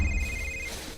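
A telephone rings with a thin, steady electronic tone that lasts under a second and then cuts off, set against a low background hum.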